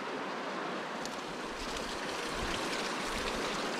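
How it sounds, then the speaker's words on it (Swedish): A small waterfall splashes steadily over rocks outdoors, a continuous close hiss of flowing water with no voices. "Ett litet vattenfall."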